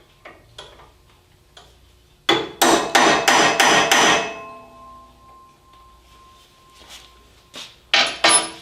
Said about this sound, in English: I have a 1/4 inch center punch, which I can use to mark my holes. And I just tap them to mark the position.